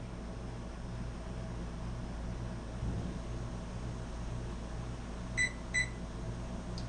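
A kitchen oven timer chirps twice near the end, two short electronic beeps over a steady appliance hum and room noise, right after the heavy oven door is closed while bread bakes.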